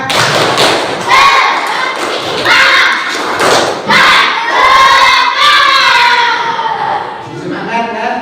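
A school class performs a rhythmic spirit clap, loud patterned group claps and thumps alternating with children's chanted shouts, close and energetic in a classroom.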